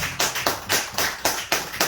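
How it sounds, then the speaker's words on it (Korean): Audience clapping in rhythm for two pastors and their wives at a Korean mentoring gospel broadcast anniversary event; eight evenly spaced, sharp unison claps, close and fairly loud, with no talk. "우리 창조하신 두 분 목사님과 사모님께 큰 박수 부탁드립니다"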